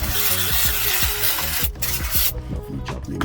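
Rapid back-and-forth scrubbing of oily grime on the underside of a 2007 Honda Jazz during a DIY service, a steady close rasping rub that briefly pauses, with no talking.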